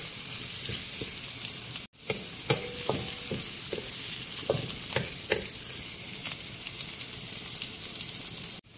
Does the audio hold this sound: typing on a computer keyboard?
no